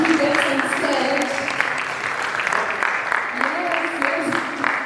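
An audience applauds a keynote speaker at a Python conference in Uganda, steady dense clapping filling the room throughout, with voices mixed in.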